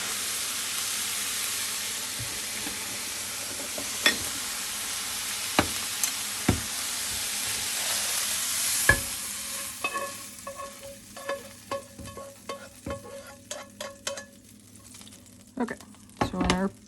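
Eggs for breakfast burritos fry in a pan with a hissing sizzle that fades into a run of sharp, irregular utensil taps and scrapes against the pan, all close and without talk.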